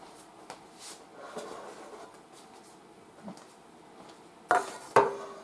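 Quiet shuffling gives way to two sharp metallic clanks close by as metal cake pans are knocked together or set down on a counter.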